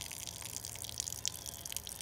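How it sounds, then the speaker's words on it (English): Water drawn steadily through a siphon tube as a drought-stopper setup, a continuous close trickling and gurgling rush with small drip-like splashes, no talking. "that end is what's sucking the water out like a straw"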